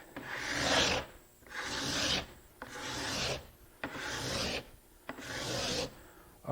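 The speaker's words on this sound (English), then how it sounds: "A few quick swipes with a scraper will put a silky smooth surface on a piece of work" A cabinet card scraper swipes across a piece of wood in five even, rasping strokes, each a close, bright scrape separated by short pauses.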